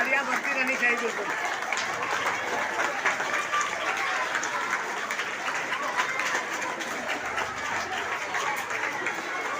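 Continuous crowd applause at a commemoration of India's first president, many hands clapping in a thick, even wash of sound that holds steady throughout, with faint voices beneath.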